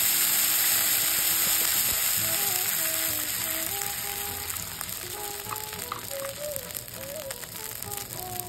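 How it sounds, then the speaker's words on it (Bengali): Water poured into a hot pan of spices for a Bengali hilsa curry with raw banana, setting off a loud hissing sizzle that slowly fades, with soft melodic music in the background. "তা এর মধ্যে আমি এবার জল দিয়ে দিচ্ছি, পরিমাণ মতন একটু জল দিয়ে দিচ্ছি।"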